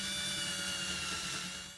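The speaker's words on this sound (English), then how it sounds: "we want to drill this down so that we see our keyhole here" A power drill bores a keyhole recess into a cedar board, making a steady, loud, continuous whirring grind that fades slightly at the end.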